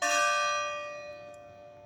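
A single large university bell tolls once, a rich ringing strike that slowly decays over a couple of seconds, alone.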